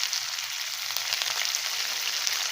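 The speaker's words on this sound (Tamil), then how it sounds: "கொஞ்சம் கருவேப்பிலையும் சேர்த்துக்கிறேன்." Curry leaves dropped into hot tempering oil with whole urad dal and chopped green chilies, giving a steady, close crackling sizzle that holds evenly throughout without any voices.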